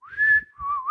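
A person whistles to imitate a ghostly whistle: a single clear, loud, close whistle that holds one pitch, dips lower, then rises sharply at the end, with no other sound.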